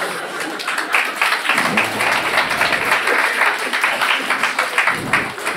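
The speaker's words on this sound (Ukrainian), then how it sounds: "Ваші оплески" Studio audience at a Ukrainian stand-up comedy show applauds steadily for several seconds, dense sustained clapping with a few faint chuckles mixed in.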